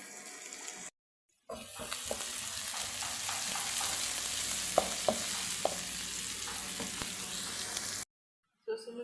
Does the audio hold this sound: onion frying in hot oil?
yes